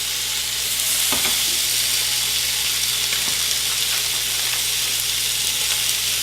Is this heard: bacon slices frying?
yes